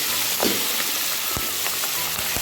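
Turmeric paste, chili and dried olives sizzle in hot oil for an olive pickle, a steady crackling fry with a few sharper pops, close and continuous with no talk.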